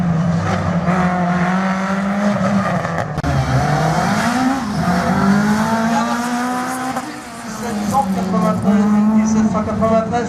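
Competition race car running a slalom course at Agon-Coutainville, its engine loud and close, revving up and down through the gates in continuous rising and falling sweeps, with a French commentator talking over it.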